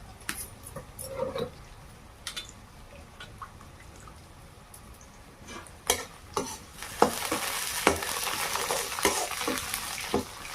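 Onions frying in a pan for a Chhattisgarhi leafy saag dish, a low steady sizzle with scattered stirring scrapes that grows louder and denser in the second half, with no voices.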